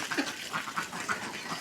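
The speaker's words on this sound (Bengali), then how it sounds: "আমার এই হাঁসগুলো সবই ডিমের হাঁস।" Khaki Campbell laying ducks on a farm give several short nasal quacks close by, irregularly spaced over a soft background.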